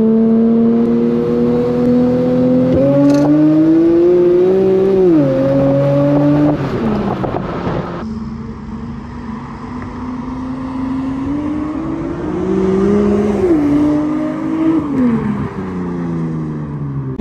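Infiniti Q50 running on E85 fuel revving hard on a dyno, a loud engine note climbing through long pulls and then dropping back before rising again.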